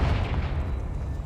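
Confringo fire-blast spell exploding in Hogwarts Legacy, a deep, rumbling boom that fills the short moment with dense low-end roar and no clear gaps.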